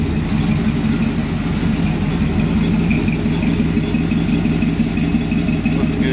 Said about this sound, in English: Hadn't crunked this one up in quite a while, so I fired it up.